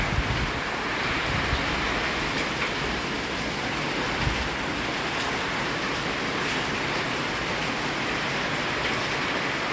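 Typhoon Paeng's powerful wind blasting through the night at 2:50 am: a loud, unbroken roar of rushing air with a rain-like hiss, holding steady throughout.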